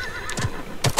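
A horse in Realm Royale whinnies in a short, bright burst, with a few sharp hoof clops around it, close and clear, with no talking.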